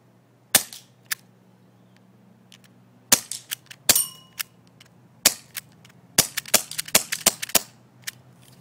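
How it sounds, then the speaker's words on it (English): Small gas-powered .25 airsoft pistol fires 0.12 BBs in sharp, snappy cracks, single shots spaced apart at first, then a quicker cluster of about seven, close and crisp over quiet background hum. "let me clip in a shooting real quick"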